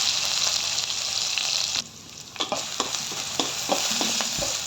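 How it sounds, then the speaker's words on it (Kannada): Ground aloo paratha masala fries in oil in a pan and is stirred. A steady close sizzle runs throughout, briefly dips, then returns with several scraping stirring strokes and soft clinks. "ಈಗ ಇದನ್ನ ಒಂದು ಪಾತ್ರೆಗೆ ಆಯಿಲ್ ಹಾಕಿ ಅದನ್ನ ಸ್ವಲ್ಪ ಫ್ರೈ ಮಾಡ್ಕೋಬೇಕು"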